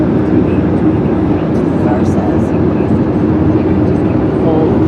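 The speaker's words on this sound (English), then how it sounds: "We're here to see a very long train." Very long container freight train of well cars rolling past near the Grand Canyon, a loud, steady, dense low rumble and rattle that stays constant throughout without letting up.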